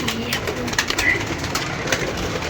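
A captive pigeon among wild pigeons gives soft, low cooing in short repeated phrases, with faint chirps and outdoor background noise and no talk.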